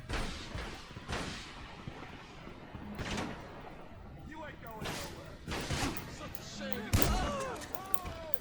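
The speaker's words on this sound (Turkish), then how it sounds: "Hafif makineli bir şey var. Uzi muzi gibi bir şey var orada." Submachine gun fire, Uzi-like, in GTA 5, scattered rapid shots and booming impacts over a steady game din, with a voice talking at times.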